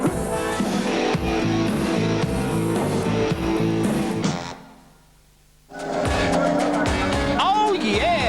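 Touring cars racing at Wanneroo Park in a 1987 Australian Touring Car Championship round, including a Holden Commodore. Loud, close engine roar dips away briefly, then returns as cars pass, with a commentator talking over it.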